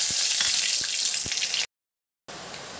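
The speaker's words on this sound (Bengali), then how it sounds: "তেল গরম হয়ে গেছে, এবার ফোড়নটা দিয়ে দিচ্ছি।" Whole spices are dropped into hot mustard and white oil for tempering, producing a loud, close, hissing sizzle that cuts out abruptly for a moment and then resumes.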